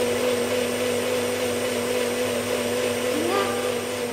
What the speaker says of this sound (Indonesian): Iya, suara blender.